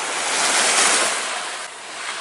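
Sea surf rolls onto a shore at a seaside camp, a steady loud broadband wash swelling and easing with some wind noise, no voices.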